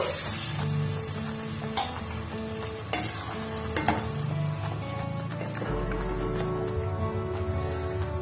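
Water goes into a pan of frying local chicken for a curry, raising a loud, steady close-up sizzle with stirring scrapes throughout, and a low rumble near the end.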